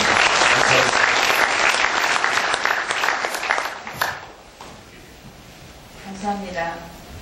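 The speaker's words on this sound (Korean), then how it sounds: "우리 박수로 한번 격려해 주십니다" Audience at a founding ceremony for a Christian newspaper and broadcaster bursts into loud, dense applause that gradually thins out and fades, leaving a few scattered claps at the end.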